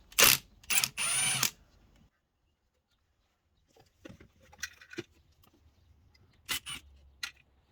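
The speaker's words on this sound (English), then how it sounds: "take your bit again, and you want to take off the diode pack screws" Screws on a Toyota alternator's diode pack being backed out with a driver bit during a teardown: a few short clicking, ratcheting bursts near at hand, separated by quiet gaps, with no talking.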